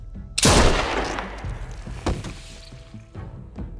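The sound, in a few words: gunshot, from video game The Walking Dead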